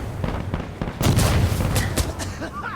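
Heavy mortar explosions in the video game Insurgency Sandstorm: a dense run of booming blasts and crackling gunfire, with the loudest impacts landing about a second apart amid chaotic battlefield noise.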